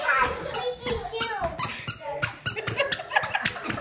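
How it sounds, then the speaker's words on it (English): Children's squeaky shoes squeak in rapid, uneven chirps close by, mixed in with kids' voices and the sounds of play. "They have squeaky shoes."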